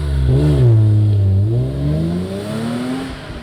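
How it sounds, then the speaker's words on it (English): A car accelerates hard in first gear, its engine note loud and close, rising in pitch and then dipping briefly before climbing steadily again over a few seconds, with no talk over it. "let's have a little go at seeing what it's like at accelerating in first."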